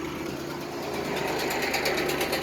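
A small electric brake booster pump on an electric one-ton truck whirs steadily, a constant mechanical hum with a faint rhythmic pulse, with no talking.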